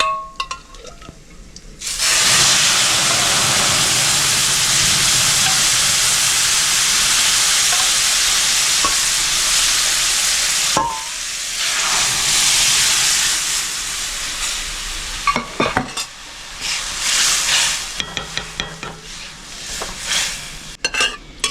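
Moong dal is poured into hot tempering, setting off a loud, roaring hiss of sizzle that holds for several seconds before breaking into bursts of bubbling and stirring clatter.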